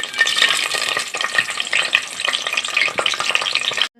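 Spices sizzle loudly in hot oil in a pan for a home cooking session, a close, steady crackling fry with stirring movements throughout before it cuts off abruptly.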